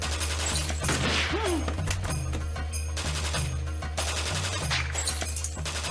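Rapid gunfire in a Kurtlar Vadisi TV scene, loud bursts and crashes over a constant droning score, with voices briefly heard among the shots.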